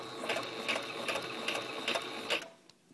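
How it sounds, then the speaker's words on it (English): A sewing machine stitches ribbon for a large cheer bow, a steady close mechanical whir with regular rhythmic pulses of the needle, then stopping. "Just run it through your sewing machine."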